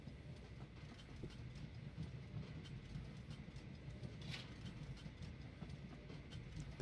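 A passenger train rolls along steadily in the Train Valley 2 game, giving a continuous low rumble with faint rhythmic clatter and no voices.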